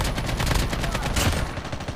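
Rapid automatic gunfire in Call of Duty rattles in a dense, continuous burst of loud, close shots over two seconds, with the rhythm of a machine gun firing steadily.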